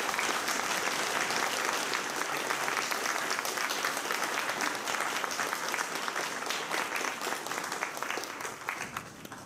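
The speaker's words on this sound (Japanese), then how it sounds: "皆様どうぞ今一度盛大な拍手をお願いいたします。" An audience at a public debate for the 2018 Tateyama mayoral election gives a long, dense round of applause, loud and sustained throughout before easing slightly at the end.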